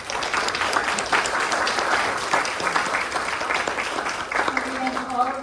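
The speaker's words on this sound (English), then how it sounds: "So please give our candidates a round of applause." Audience at a county board of education candidates forum applauds the candidates at the close of the panel, steady clapping filling the room throughout with voices mixed in.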